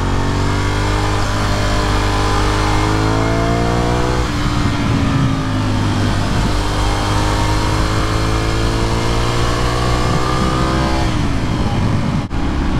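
A motorcycle engine drones loudly throughout a ride through a residential neighborhood in Lakewood, its pitch rising and falling through gear changes, with constant wind rush over the microphone.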